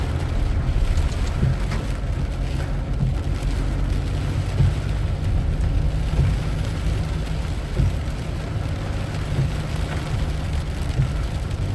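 Heavy rain and gusting wind from a violent storm in Vientiane, Laos, heard from inside a car, a steady dense roar with low rumbling throughout and no voices.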